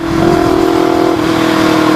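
A Yamaha R25 motorcycle with an Akrapovic Racing Line exhaust and its silencer fitted revs loudly and close, a strong steady engine drone that rises briefly then holds, with no talking.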